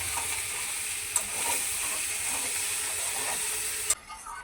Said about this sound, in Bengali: লবণ দেওয়ার পরে তরকারিটাকে নাড়াচাড়া করে নেব